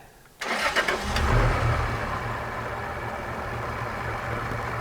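A heavy truck engine cranks and catches, then settles into a steady, rumbling idle with a shaky low hum, close by and fairly loud, the engine shaking badly.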